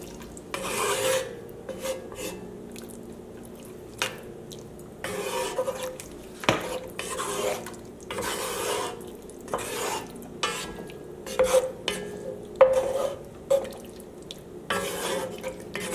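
Spoon stirring sour cream into a ribeye steak stroganoff sauce with mushrooms, a steady run of wet scraping and rasping strokes against the pan with short pauses, close and moderately loud, no talking.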